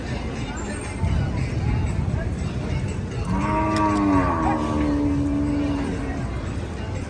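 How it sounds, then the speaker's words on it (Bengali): A cow gives a loud, drawn-out moo from close by at a busy 2024 Qurbani cattle market at Koyla Ghat haat in Narayanganj, with crowd babble and talk continuing around it. "অনেক এগ্রেসিভ একটা গরু"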